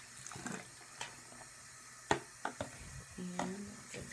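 Makeup brushes being rinsed under running water at a bathroom sink: quiet splashing and trickling with scattered soft knocks and clicks, close and faint.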